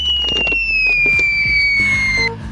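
A homemade paper jet rocket launches with a sharp, firework-like whistle that slides gradually downward in pitch over crackling pops and thumps, then ends abruptly.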